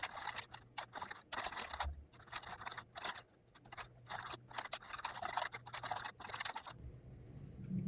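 Quick bursts of typing on a computer keyboard while writing Python code, clustered keystroke clicks in irregular runs with short pauses, close and moderately loud, no voices.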